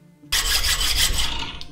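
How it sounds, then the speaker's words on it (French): A harsh rasping cut starts abruptly and continues in quick back-and-forth strokes, close and loud, as a hacksaw cuts through slate held in a vise. "je vais placer dans l'étau et le découper à la scie à métaux"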